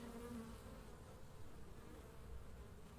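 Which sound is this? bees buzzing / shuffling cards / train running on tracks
bees buzzing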